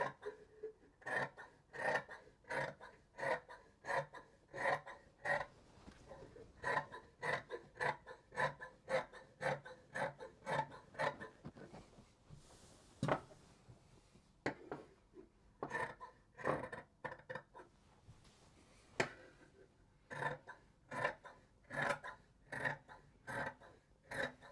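Scissors snip through dress fabric in a long run of quick, rhythmic cuts, with a brief pause midway before the crisp close-up snipping resumes.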